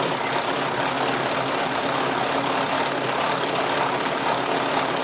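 Electric hand mixer running at its lowest speed, whipping chilled cream into chantilly in a cold bowl, a steady, dense motor whir that holds even and close for the whole stretch with no talk.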